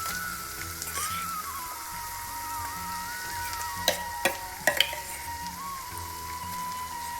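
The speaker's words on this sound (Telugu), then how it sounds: "మనం ముందుగా మిక్స్ చేసి పెట్టుకున్న మిల్ మేకర్ని వేసుకోవాలి" Soy chunks (meal maker) with onion paste, ginger paste and turmeric fry in a pan with a continuous close sizzle, broken by a few sharp clicks of stirring midway.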